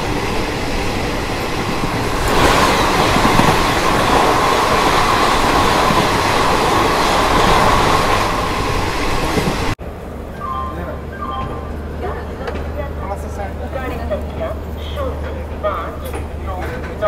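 The Dhanbad–Jammu special Garib Rath Express, a passenger train, rumbles loudly and continuously along the rails. The roar is dense and broad at first, then turns quieter and more muffled with faint clatter partway through.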